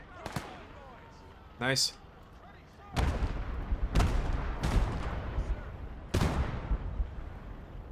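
Gunfire in the WWII strategy game Gates of Hell: several loud, sharp shots and booming blasts ring out at irregular intervals over steady battle ambience, and a voice speaks briefly.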